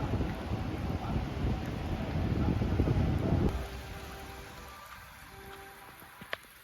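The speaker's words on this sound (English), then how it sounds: "And this rain is coming out hard too." Heavy rain pours down outside a hockey arena in New York, a dense hiss and patter that stays loud for about three seconds, then drops to a thinner drizzle with a few sharp drips near the end.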